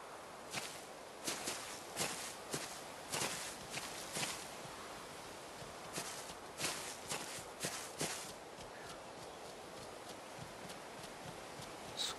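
Animal footsteps patter across the ground in a safari game set in Africa, a quiet irregular run of soft hoof-like thuds in clusters, fairly distant, with faint rustling between them.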